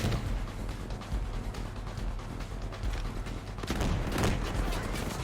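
Unsilenced P320 pistol fire in the shooter game Ghost Recon Breakpoint, loud dense reports blending into a continuous stretch of gunfire with mechanical clatter, heavier toward the end.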